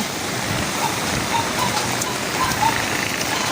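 Steady, heavy rain pouring down continuously, a dense hiss of drops on surfaces with no voices over it.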